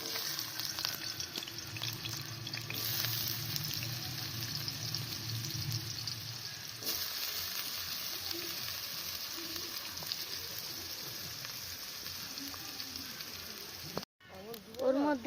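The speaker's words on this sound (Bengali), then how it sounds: "আলুগুলো ভেজে নেব।" Potatoes frying in oil in a kadai, giving a steady close hiss and crackle that runs evenly throughout, ending with a short break and a few louder scrapes.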